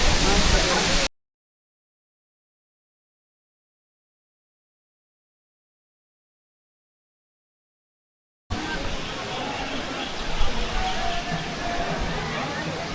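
Steady rushing water from a monsoon waterfall on the Ekvira temple hill, dense and continuous, cut off by a long stretch of total silence before the roar resumes at the same level.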